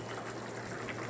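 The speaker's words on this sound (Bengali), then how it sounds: "চলো এদিকে ঝোল ফুটতে থাকুক।" Fish curry broth bubbles and simmers in a pan, giving a soft, continuous watery seething at low level with no voices.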